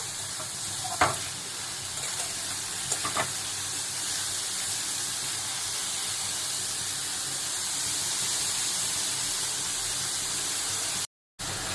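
Chopped onions fry in a pan for a Bengali onion-and-poppy-seed posto dish, giving a steady, even sizzle throughout with a couple of brief stirring clinks near the start and no talking.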